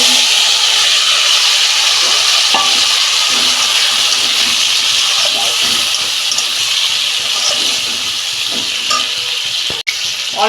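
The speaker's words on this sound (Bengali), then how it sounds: "আমি বটবটিটা দিয়ে দিচ্ছি" Batbati beans tipped into hot oil over fried whole spices, a loud steady sizzle with scraping stirs and a sharp clink near the end.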